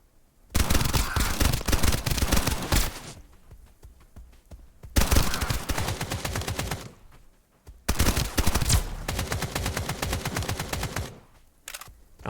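Video game gunfire rattles out in long, loud automatic bursts, three sustained volleys of rapid shots separated by brief gaps, dense and close.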